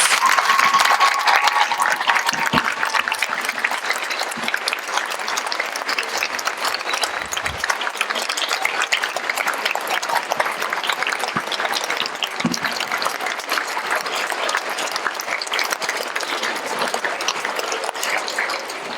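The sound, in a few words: students' applause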